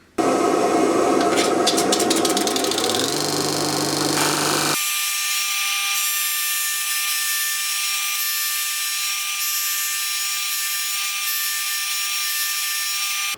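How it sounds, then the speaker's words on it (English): A loud, steady power-tool whine runs throughout, rough and grinding at first, then settling into a smooth, continuous high-pitched drone, while sanding a piece of wood into a disc. "now I can do a little bit of sanding to turn that into a disc"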